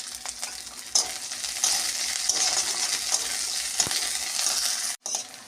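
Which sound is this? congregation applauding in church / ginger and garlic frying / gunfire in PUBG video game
ginger and garlic frying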